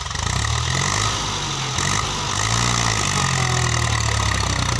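A Ford 6610 tractor engine runs steadily and loudly up close while pushing a heap of soil, a continuous low diesel drone with no talk over it.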